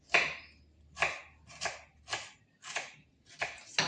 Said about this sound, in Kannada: ಈರುಳ್ಳಿ ಹೆಚ್ಕೋತಾ ಇದ್ದೀನಿ.